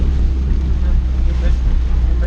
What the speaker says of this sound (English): Up pipe turbo car in the rain. Sounds good.